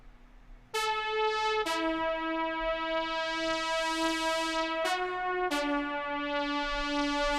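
A bright, buzzy synth keyboard plays a few held notes with sharp attacks and rich overtones, sustaining evenly over a faint low backing in a Cubase mix.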